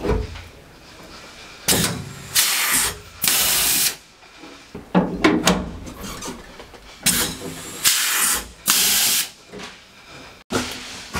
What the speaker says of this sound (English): make sure you push in on the steel A-frame as you set each rib nut.